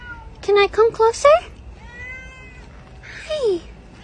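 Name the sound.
cat meowing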